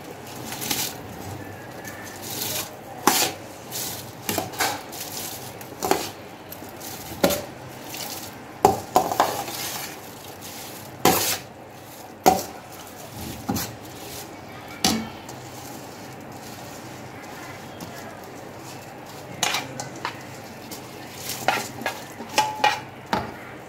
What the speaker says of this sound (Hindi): चम्मच की मदद से एक दफ़ा सारे चावलों को हमने अच्छी तरह मिक्स कर लेना है।